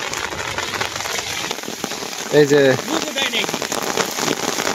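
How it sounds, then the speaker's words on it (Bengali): Steady heavy rain pattering on surfaces in a flooded village near a marshy beel where fish are being caught, a dense continuous hiss with a brief spoken voice in the middle. "এই যে আবার বৃষ্টি নামতেছে"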